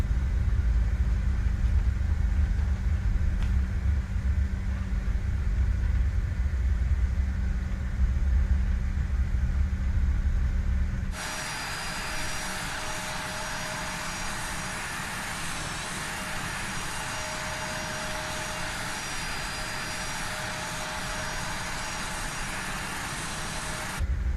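An Airbus A350 jet in a flight simulator game takes off, first a deep low engine rumble, then after a sharp switch a broad steady roaring hiss that stays even and strong to the end.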